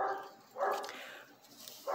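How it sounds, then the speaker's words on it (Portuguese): Neighbours' dogs bark in several loud bursts, two or three separate outbursts of barking spread through a couple of seconds, fairly close, with no talking over them. "desculpa o barulho do cachorro aí"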